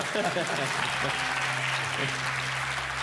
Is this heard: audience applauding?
yes